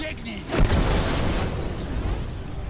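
A loud burst at the start of a fireworks-like boom in The Last of Us Remastered video game, followed by a sustained crackling rumble and hiss, with a voice faintly present underneath.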